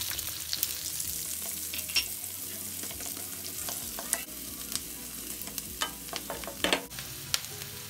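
Chopped onion sautéing with garlic in a pan for mung bean stew, a steady close sizzle broken by sharp scattered taps and scrapes of a utensil stirring.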